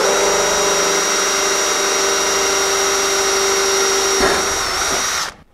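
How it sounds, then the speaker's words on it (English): An angle drill bores holes through the aluminum wing structure of a Zenith Super Duty kit aircraft in a tight space, giving a loud, steady, high-pitched whine that runs unbroken for about five seconds before spinning down and stopping. "we got the angle drill out to accomplish getting these holes drilled here since we have tight clearances"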